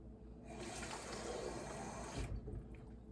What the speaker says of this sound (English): how a lot of water is just getting forced through the little screen filter in the tap